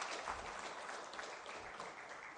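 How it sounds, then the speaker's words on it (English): Faint, steady applause from a conference audience at a national education conference, a soft, even patter of many hands heard at a distance. "Another round of applause, ladies and gentlemen."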